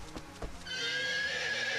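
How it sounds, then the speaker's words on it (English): Horse neighing in Rune Factory 4, a short whinny preceded by a couple of hoof-like thumps, then a bright, sustained high neigh ringing out clearly with no talk over it. "That was a horse."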